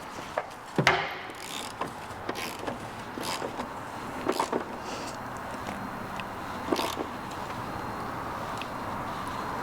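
Ratchet with a 22mm socket tightening an engine bolt during a Vespa P200 engine installation, with irregular close metallic clicks and clunks over a steady background hiss, no talking.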